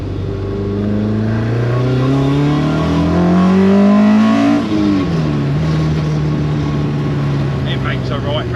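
A Mk2 Ford Escort with a carburetted YB Cosworth engine revs hard and close, its pitch climbing then dropping back to a steady loud idle-rev drone, with voices talking over the racket.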